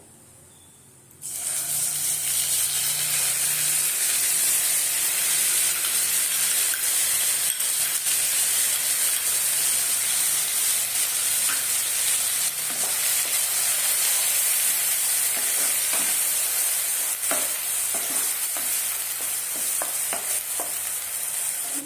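Onion, ginger and garlic paste hits a hot pan for a potato and pointed gourd korma, bursting into a loud, continuous close sizzle after a quiet second, with occasional stirring scrapes and no talking.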